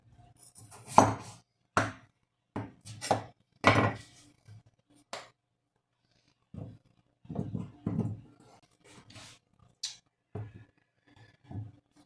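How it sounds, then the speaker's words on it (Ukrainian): A knife cutting potatoes in half on a board in a home kitchen, a series of separate thuds and chops, some pairs close together and others spaced apart by quiet pauses, close and fairly crisp with no talking. "Ріжемо а картоплю навпіл ось так"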